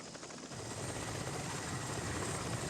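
Military helicopters in Vietnam War footage, rotor and engine roar building slightly then holding as a loud, dense, continuous drone with no voices.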